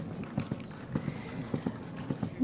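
People at a Sunday church service pageant imitate a donkey's hooves with their voices and hands, producing a steady, evenly spaced clip-clop pattern that sounds close and moderately loud.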